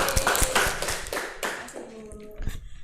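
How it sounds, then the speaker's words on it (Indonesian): In a classroom microteaching session, a small group claps for a presenter, producing a scattered run of close, uneven hand claps mixed with speech, fading into talk near the end. "Tepuk tangan untuk Mbak Erli."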